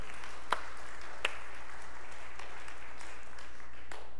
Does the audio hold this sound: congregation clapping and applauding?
yes